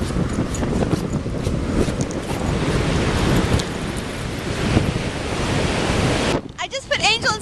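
Steady rain and crashing ocean surf on a rainy Malibu beach, a loud continuous wash of noise for most of the stretch, ending in a quieter patch with bird-like chirps.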